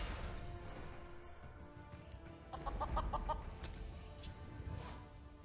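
A cartoon chicken in the card game The Elder Scrolls: Legends clucks in a few quick, fairly faint bursts over a steady layer of game music, with no talking.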